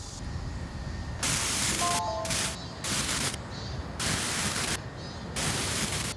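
Loud broadband hissing static with crackle simulating tinnitus, swelling and dropping in bursts, continuous and harsh with no voices.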